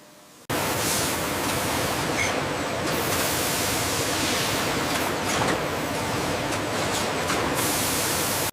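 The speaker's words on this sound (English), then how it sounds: "A freshwater spray removes suspended dirt, so contamination is not simply redistributed across the lot." A freshwater spray rinses kohlrabi in a processing factory, starting abruptly and then running as a loud, steady hiss of water for several seconds.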